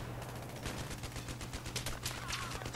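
Rapid gunfire crackles through a Battlefield 3 match, a dense run of sharp shots and bursts at steady moderate distance over a constant low hum, no voices.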